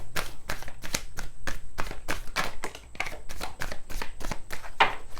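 Playing cards being shuffled up close, a rapid series of crisp riffling snaps and soft flutters in an uneven rhythm, with no talking.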